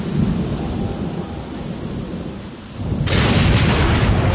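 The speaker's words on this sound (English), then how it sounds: "lightning strike. Right into our pile of landscaping" Video-game thunder from a lightning strike: a low rolling rumble under steady rain that breaks into a loud, sharp crack near the end.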